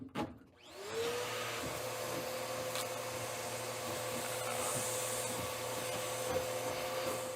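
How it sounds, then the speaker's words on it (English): Vacuum cleaner running with its hose pushed deep into a dryer vent lint trap, pulling out lint and hair; a loud, steady whine and rushing suction that starts after a brief click and holds evenly throughout, no talking. "I'll slide the hose deep down into the trap and turn on the vacuum."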